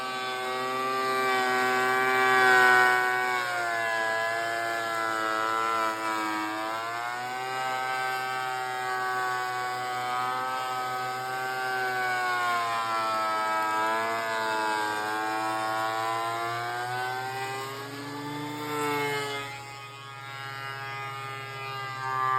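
A power planer planing wooden boards on a cold day: its motor whines steadily and loudly, its pitch dipping slightly a few times as boards pass through, running throughout without pause.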